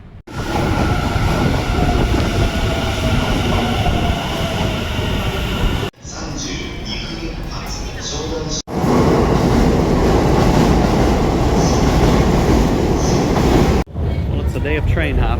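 A commuter train running through Tokyo from Shinjuku toward Yokota, with a loud steady rumble and rail noise heard from inside the car, punctuated by brief changes as the train passes over track sections and junctions.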